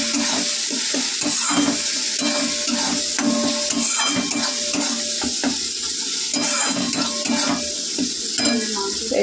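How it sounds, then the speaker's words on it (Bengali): Cumin and ground spices sautéing in a pan, a loud continuous sizzle broken by constant clattering spatula scrapes against the metal. "জিরে সব মশলা দিয়ে কিন্তু কষিয়ে নেব"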